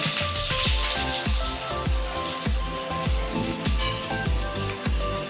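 Cumin seeds and curry leaves sizzling in hot oil for mango rasam, a loud steady crackle with regular spattering pops close up, no voices over it.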